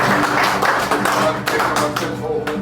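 An audience at a Marno Boshoff church gathering at Bossa Castle Walk claps in a steady rhythm, with each clap crisp and close, mixed with voices and music.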